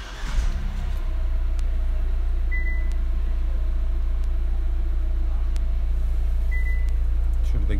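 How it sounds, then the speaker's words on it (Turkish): A Hyundai Tucson 1.6 CRDi diesel engine with a DCT7 gearbox starts up and settles into a steady, loud low idle rumble heard from inside the cabin, with two faint chime beeps. "Aracımızı çalıştıralım."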